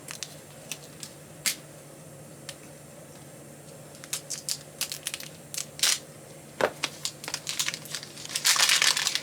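A plastic wrapper is peeled and crinkled off a red chocolate capsule from a miniature Valentine's chocolate set. Sparse crackles at first build into denser, louder crinkling near the end, all close and without speech.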